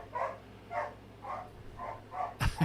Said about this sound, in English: I got a crazy dog in the background.